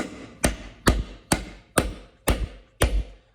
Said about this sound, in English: So now I'm going to do it again.